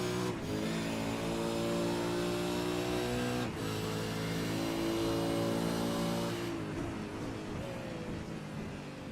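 A V8 Supercar engine in the iRacing sim at Autódromo José Carlos Pace revs hard with rising pitch, brief lifts and gear changes, then drops off on deceleration near the end.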